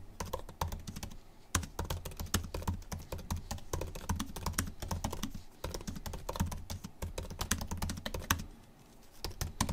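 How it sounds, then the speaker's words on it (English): Typing on a 2020 MacBook Pro keyboard: quick, soft key clicks patter close up in uneven bursts, with a couple of short pauses between runs. "here is a type test for those who want to know obviously what the keyboard is like."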